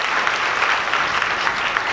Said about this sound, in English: Can we get a round of applause for the NewFest staff?